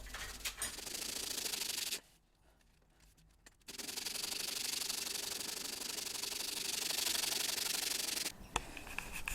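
Frets on a guitar neck are sanded smooth with steady, close rubbing strokes that run for several seconds, pause briefly, then continue in a long even stretch before stopping.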